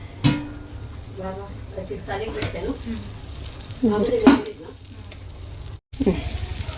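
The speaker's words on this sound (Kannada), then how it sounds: "ಸ್ವಲ್ಪ ಇದ್ರ ಮೇಲೆ ಬೆಣ್ಣೆ ಹಾಕ್ಕೊಂಬಿಡೋಣ ರೀ" Butter melts on a hot griddle for Davangere benne dosa, giving a steady, close sizzle with some scraping and stirring while someone talks over it.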